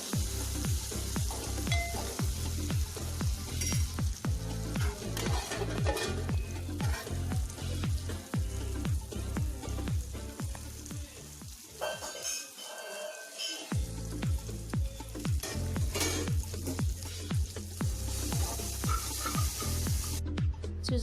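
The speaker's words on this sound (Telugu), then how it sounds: "టమాటోస్ను కొంచెం ఒక 1 మినిట్ 2 మినిట్స్లో ఫ్రై అయిపోతాయండి" Tomatoes and ridge gourd fry in a pan for a Telugu moong dal curry, giving a steady, loud sizzle with rhythmic scraping and stirring strokes throughout, briefly dipping near the middle, with no talk.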